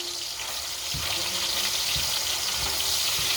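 Browning sausages sizzle loudly in a hot pan as a spatula pushes them around, a steady close frying hiss broken by a few soft scraping knocks.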